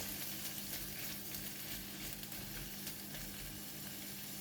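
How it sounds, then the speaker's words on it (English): Prawns frying in hot garlic oil in a pan, a steady, even sizzle with soft crackle that holds throughout, with no voices. "Put in all the prawns and spread them evenly."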